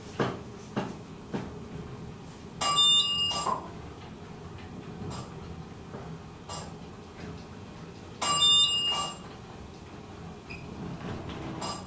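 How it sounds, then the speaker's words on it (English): A mall elevator at Emerald Square Mall in North Attleborough, Massachusetts, signals arrival with a redundant mechanical bell and an electronic chime. Two bright ringing bursts stand out clearly over steady background hum, with a few soft clicks and knocks between them. "Redundant bell and electronic chime."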